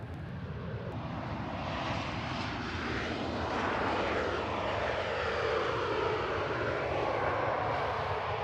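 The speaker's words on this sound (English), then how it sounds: "That's a 6-year-old A320 Neo that's coming from Copenhagen with flight 541." A six-year-old Airbus A320neo jet arriving from Copenhagen touches down on runway 05 right at Manchester Airport, its engines giving a steady, broad roar that swells slightly as it passes, with no talking.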